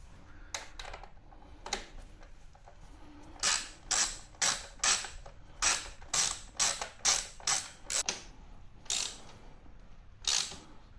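Ratchet wrench tightening and torquing bolts on a Harley-Davidson Pan America motorcycle, a run of sharp, evenly spaced clicking bursts close by, with scattered clicks before and after and no talking.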